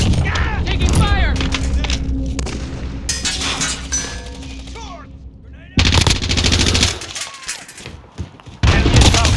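Bursts of rapid automatic gunfire and single shots crack loudly in a Call of Duty Modern Warfare Domination match, layered with booms and game voice callouts, pausing briefly before heavy firing resumes.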